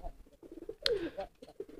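Courting pigeon, a kolong or high-flying racing type, gives a single short coo while herding its mate, standing out briefly from faint background sounds.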